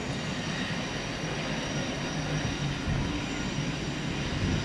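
Passenger train 200 runs past Marton Junction in New Zealand as a steady, broad rumble of rail traffic that holds evenly and swells slightly at the end, with no talk over it.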